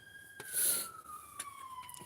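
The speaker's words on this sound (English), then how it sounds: "That might be an ambulance, I don't know." An ambulance siren passing outdoors. A high, faint wail glides slowly downward in pitch across the clip, while brief rustles and knocks sound closer by.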